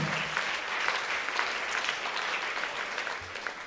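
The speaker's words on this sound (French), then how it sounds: "Put your hands together for Jesus." Audience applause at a church gathering for Jesus: steady, dense clapping from many hands throughout, moderately distant and even, with no voices standing out.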